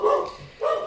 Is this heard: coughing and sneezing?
no